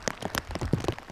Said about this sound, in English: Yep, it's raining. It's raining and it's cold,